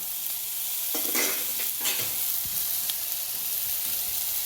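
Masala sizzles and fries in a pan for a quick clam dish, a continuous hiss broken by several scraping, clattering stirs of a spoon against the metal near the middle.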